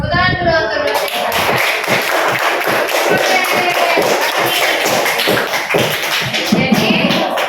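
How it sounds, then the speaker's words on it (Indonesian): A school class claps for the lecturer, brisk scattered applause with taps and thumps that fills the room for several seconds after a short voice at the start. "tepuk tangan dulu untuk dosen."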